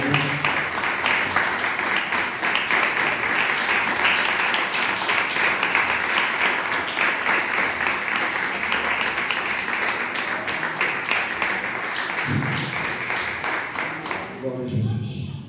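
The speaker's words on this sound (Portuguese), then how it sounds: "Os irmãos podem sentar e louva o Senhor com suas palmas." A church congregation claps in praise, a dense, steady wash of applause that runs loud and unbroken for about fourteen seconds before thinning out near the end, with a voice coming in over it.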